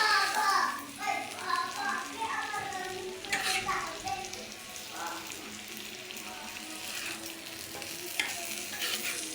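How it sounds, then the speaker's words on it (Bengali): Bottle gourd peel and potato bhaji frying in a pan, stirred steadily so the sizzle rises and falls with scraping strokes, close and moderately loud, with a voice briefly audible in the background. "এখন আমি ভালোভাবে নেড়ে চেড়ে নিচ্ছি"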